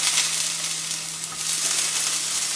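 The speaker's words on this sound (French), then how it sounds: "On a coupé les rondelles, on va les mettre à griller, comme ça," Rounds sizzle steadily in a hot frying pan while grilling for a mackerel salad, a loud, close, continuous hiss and crackle with no talk.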